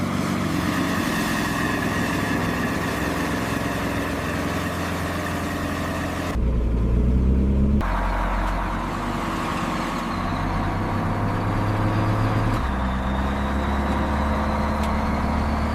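Military jeep engine revving under full power as it accelerates hard through a mud pit on a test course, a loud, steady low roar with a brief surge partway through.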